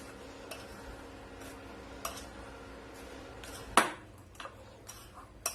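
Melted chocolate is stirred into biscuits in a bowl, with scattered clinks and taps of a utensil against the bowl, one sharper clatter, over a faint room hum.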